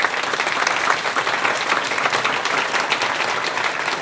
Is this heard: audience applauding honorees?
yes